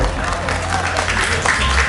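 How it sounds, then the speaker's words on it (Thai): Steady applause and crowd noise at a Thai football match between Angthong F.C. and Prachuap F.C., a dense wash of clapping filling the two seconds, with voices mixed in. "ขอเสียงปรบมือดังให้กับนักกีฬาทั้งสองทีมครับผม"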